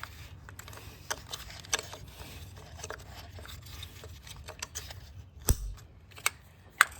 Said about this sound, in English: They need to make an audible click. Hear that?